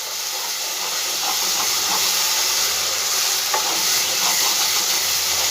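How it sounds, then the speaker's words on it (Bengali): A spice masala with Kashmiri red chili powder fries in a pan for a vegetarian dish, giving a loud, continuous sizzling hiss with faint stirring scrapes and no talk. "এবার খুব ভালো করে মশলাটা আমি কষিয়ে নেব।"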